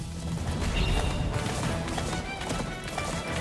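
Horse galloping in the Attack on Titan video game, a steady dense run of hoofbeats with crashing game sound effects layered over it, loud and continuous throughout.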